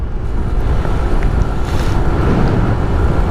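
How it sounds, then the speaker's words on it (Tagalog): Steady, heavy wind roars and buffets the microphone while riding a Suzuki motorcycle, over a low, continuous rumble of motion, loud and close with no voices. "lakas ng hangin wait lang ah"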